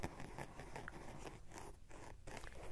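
Rough fingers rub the microfiber interior padding of a Shoei X-Fourteen helmet, a faint, close, scratchy crackling with brief crunchy strokes and no talk.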